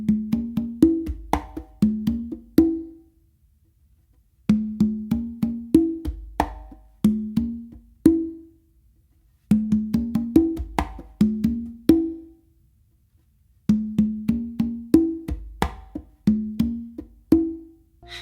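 Congas play a melodic tumbao variation with open tones, slaps and muted strokes, repeated in four close, loud phrases separated by short pauses, with no talking.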